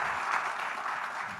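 Audience applause in a hall during a Hindi talk event, a steady dense wash of clapping that holds at an even level throughout, with no voices over it.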